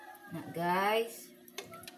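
A cat meows once, a drawn-out, fairly close call, with faint background noise before and after.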